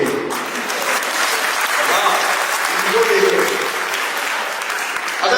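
Audience applause at a Hindi comedy poetry gathering (kavi sammelan): loud, dense crowd clapping that fills the whole stretch steadily, with faint voices mixed in beneath it.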